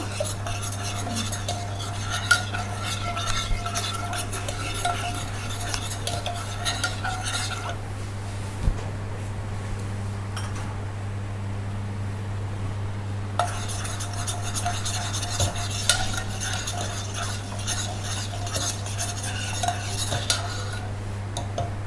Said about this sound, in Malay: kita kacau hingga gulanya larut